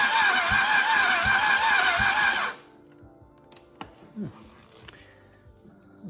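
A 1986 Suzuki GSX-R 750 engine cranks with the throttle open during a compression test on cylinder 1, giving a loud, steady whirring churn for a couple of seconds. It then cuts off to near silence with a few faint knocks and clicks.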